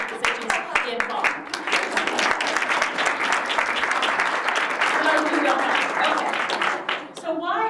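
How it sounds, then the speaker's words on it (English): Audience applause fills a hall at a climate talk, loud, dense clapping that starts with a few sharp claps, swells to a steady roar for several seconds, then thins out near the end. "a round of applause"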